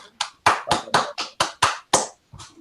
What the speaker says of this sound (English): I hope everybody else is clapping, even if silently.